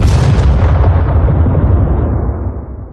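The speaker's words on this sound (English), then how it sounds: "A small explosion rocks the labs." A small explosion sound effect for a lab scene in a radio drama: a loud, deep rumbling blast that stays heavy and dense before decaying and thinning out toward the end.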